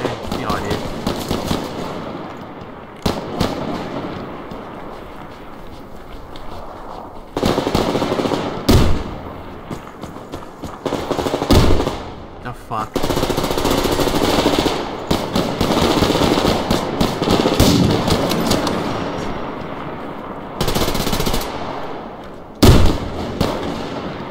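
Gunfire in the video game Survarium, with rapid bursts of automatic shots and single loud cracks coming in dense clusters over a rumbling background, mixed with occasional talk.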